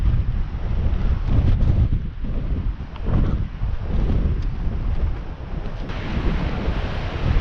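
Strong coastal wind buffets the microphone on a clifftop walking path, a loud, continuous low roar with gusty swells and rumbling and no voices.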